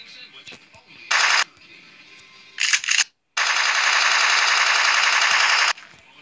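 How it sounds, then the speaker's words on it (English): Automatic fire from a newly picked-up gun in a video game: a short burst, a second brief burst, then a sustained loud stream of rapid shots lasting over two seconds before cutting off. "Damn, I like this gun better."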